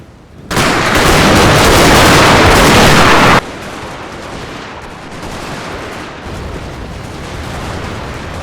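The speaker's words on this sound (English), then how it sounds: "The sustained gunfire from the Voortrekkers inflicted severe losses, forcing the Zulus to retreat." Dense, sustained video game battle gunfire erupts after a short pause, loud and continuous for a few seconds, then drops to a lower rumble of distant shooting.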